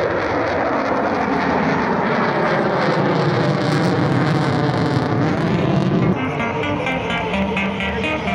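Fixed-wing aircraft engine roaring loudly as the plane flies a loop at an air show over Dal Lake, Srinagar: a powerful continuous roar that shifts in tone partway through as the plane turns, with no talk.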